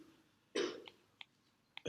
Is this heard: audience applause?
no